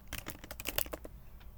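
Keys clatter on a computer keyboard while a Next.js project is set up in a terminal: a quick run of close, crisp keystrokes, then a few sparser taps trailing off.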